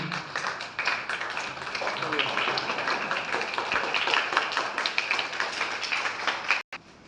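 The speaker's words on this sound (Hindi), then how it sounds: "जोरदार ताली मारिए इसके लिए" Students clap loudly and steadily together in a classroom, dense applause that holds for several seconds before cutting off abruptly near the end, with some voices mixed in.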